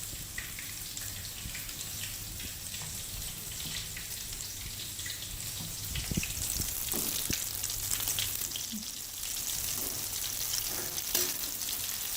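Chicken pieces frying in hot oil until golden brown, a steady broad sizzle running the whole time with occasional sharper crackles and soft utensil sounds, close and even.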